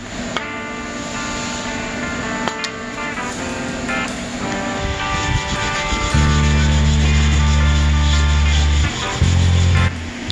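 An LS engine part being scrubbed with Barsol parts cleaner during a cam swap, with close rubbing and scraping strokes, then a loud steady mechanical hum that starts partway through and runs to the end.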